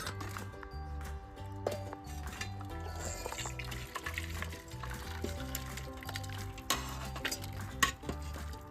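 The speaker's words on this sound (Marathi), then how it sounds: "आता हे मटण आपण दुसऱ्या भांड्यात काढून घेऊ" Cooked mutton rasa is ladled from one pot into another beside a wood-fired chulha, with faint scraping, stirring and liquid sloshing under steady background music.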